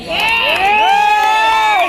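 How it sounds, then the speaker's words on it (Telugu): A crowd at a store inauguration cheering and whooping loudly, with high shouts and voices blending into a dense, continuous roar close by, without distinct clapping. "వాళ్ళ కోసం ఒకసారి గట్టిగా చప్పట్లు"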